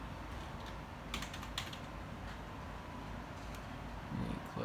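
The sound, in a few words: typing on a computer keyboard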